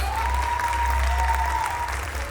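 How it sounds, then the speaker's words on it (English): Audience applause at an award ceremony, a steady, even wash of clapping that holds at constant loudness for a couple of seconds, with a faint tonal whistle or feedback line running beneath it. "Please give a huge round of applause."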